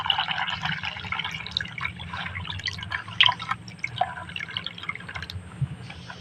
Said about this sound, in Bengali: জল দিয়ে সুজিটা একটু ধুয়ে নেবো